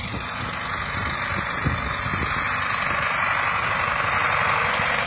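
A Zetor 64 tractor engine idles steadily in a field in Bayburt, running with no overheating and no exhaust smoke, a continuous low rumble with broadband noise, fairly close and unchanging throughout.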